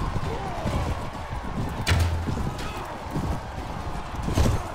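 A horse gallops in the Mount and Blade video game with steady, rapid hoofbeats close up, under someone talking excitedly.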